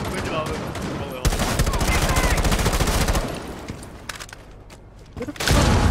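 Rapid bursts of automatic gunfire from the tactical shooter video game Rainbow Six Siege, with bullets striking a wooden barricade, loud and dense across most of the moment before easing off, then swelling again at the end.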